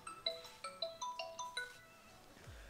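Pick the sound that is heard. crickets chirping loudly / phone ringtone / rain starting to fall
phone ringtone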